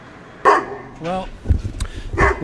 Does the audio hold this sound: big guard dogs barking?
yes